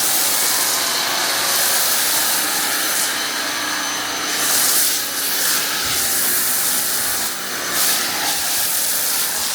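A foam cannon blasts a steady, close hiss of car wash foam onto a car during a second foam pass before a contact wash, the loud spray running continuously with slight dips and no talking.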